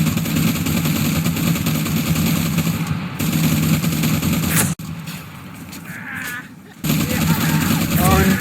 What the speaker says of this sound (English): Luckily for them, they had their machine guns.